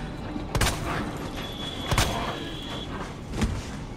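Gunfire in the video game Resident Evil 2: three sharp shots spaced roughly a second and a half apart, each a short loud crack over a constant noisy game background.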